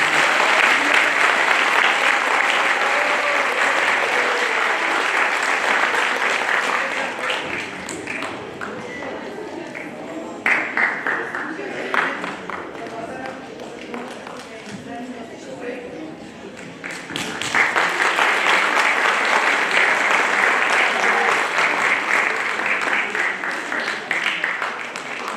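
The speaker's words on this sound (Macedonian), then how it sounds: "Ве молам аплауз, вака се." Audience at a school end-of-year ceremony applauds loudly, dense clapping that eases to a thinner patter in the middle, then swells back to full applause, with a voice speaking over it.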